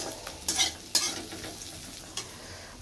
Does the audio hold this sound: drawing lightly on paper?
no